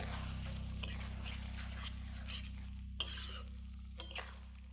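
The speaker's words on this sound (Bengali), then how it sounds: "এক দু মিনিট পরপর ঢাকা খুলে নেড়ে চেড়ে দেবে" A low steady hum runs under soft sizzling, while a spoon scrapes and clinks against a pan a few times as potatoes are stirred.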